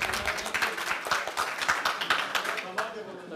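Audience applause at a ghazal and poetry evening in Willesden Green, London, a steady wash of many hands clapping with irregular sharp peaks, running without break through the whole stretch.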